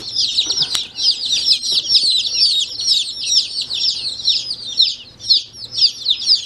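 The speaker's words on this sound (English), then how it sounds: "And then we have 55 chicks that we ordered." A box of 55 newly delivered hatchery chicks peeps continuously, a dense, high-pitched chorus of overlapping cheeps loud and close, with a few faint rustles and bumps underneath.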